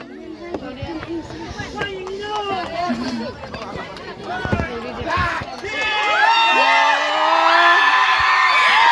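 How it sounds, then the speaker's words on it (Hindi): A crowd at a Karbi cultural night cheers, whoops and shouts, with children's voices prominent. The noise swells louder and fuller toward the end, with people talking amid the din. "इतना चिल्ला रहा है, देखो बहुत ज़्यादा खुशी हो रहा है वैसे।"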